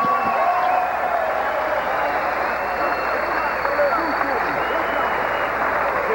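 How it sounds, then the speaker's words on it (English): A boxing arena crowd applauds both fighters after the Winky Wright vs Bronco McKart bout, a thick, continuous wall of clapping and crowd noise with a voice carrying over it. "let's have a nice round of applause for both of these fighters."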